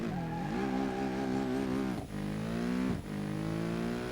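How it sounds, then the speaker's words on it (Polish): Car in BeamNG.drive racing at speed, its engine droning loud with rising revs, broken by two brief gear shifts with dips in pitch, continuous and up close with no talk. "pokażę wam, jak to auto szybko jeździ"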